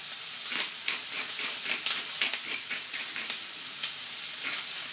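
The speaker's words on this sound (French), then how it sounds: "Donc ma poêle elle est chaude, ok? Vous allez entendre crépiter un petit peu. Alors ça, je fais sauter déjà mes poivrons." Bell peppers sauté in a hot frying pan for ratatouille, giving a constant close sizzle with crackling pops and the occasional stir.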